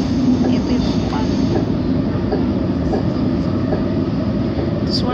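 A passenger train rides along the rails, a loud, constant low rumble and rolling roar heard from inside a carriage, with faint voices in the background.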